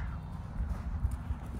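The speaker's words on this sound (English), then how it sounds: "All these beautiful horses." Horses moving through a pasture with big buckskins and duns in the herd, low hoof thuds and clopping on ground, a steady soft rumble with no voices.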